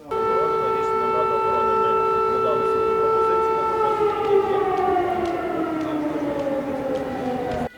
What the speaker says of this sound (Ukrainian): У Чернівцях сигнал повітряної тривоги охоплює усю територію